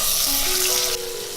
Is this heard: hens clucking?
no